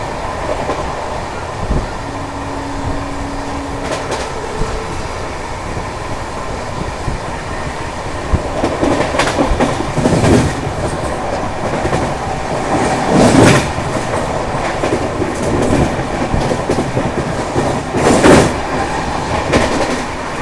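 Shalimar SF Express rushing past a small station at speed, a loud, sustained rumble of rolling wagons with repeated clattering wheel beats over rail joints, heard close by.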